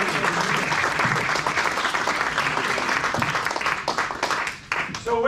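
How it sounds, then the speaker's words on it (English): Sustained applause from a banquet audience at a sports awards dinner, dense steady clapping filling the room for several seconds before thinning briefly near the end, with scattered voices mixed in. "give him a round of applause and thank him for bringing these"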